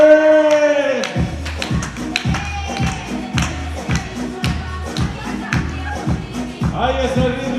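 A live audience claps in steady rhythm to a catchy pop song, sharp, evenly spaced claps repeating about three times a second over the music, loud and close, with a sustained musical tone at the start.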